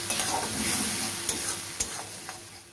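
Mustard paste with turmeric and a little water sautéing in a pan, a close, steady sizzle broken by a few sharp scraping strokes as it is stirred, with no voices.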